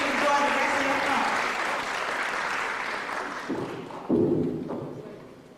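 A conference audience claps steadily after a talk, the applause slowly thinning out, followed by a few scattered thumps and a brief louder burst near the end.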